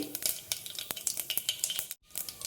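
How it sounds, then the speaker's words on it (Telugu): Mustard seeds and cumin sizzle and crackle in hot oil in a pan. Dense, close popping and spitting runs throughout, with a brief gap near the end, and no voices. "నూనె వేడైన తర్వాత ఆవాలు వేసుకోవాలి, జీలకర్ర వేసుకోవాలి"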